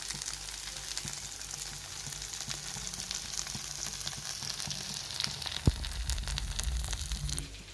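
Fish coated in masala frying in hot oil, Tamil hotel-style crispy fish fry, a steady close sizzle and crackle throughout with one sharp pop near the end and no voice over it.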